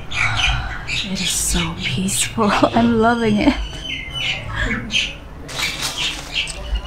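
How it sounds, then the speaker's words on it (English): Birds squawk and chirp in a bungalow garden in southern Thailand, close, busy calls running throughout while a person talks over them. "And you can already hear the birds singing."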